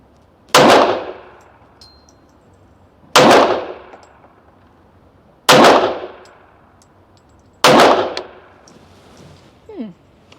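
Four loud, sharp pistol shots from a Sig Sauer P365 chambered in .380 with light 56-grain ammunition, evenly spaced about two seconds apart, each with a short decaying ring, and no talk over them.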